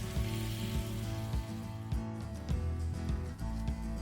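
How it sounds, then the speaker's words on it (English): Mutton sizzles and fries steadily in a pan over a flame, with the scrape and clatter of a spoon stirring the meat every so often, close and fairly loud with no talking. "So it's almost 10 minutes I have been frying the meat"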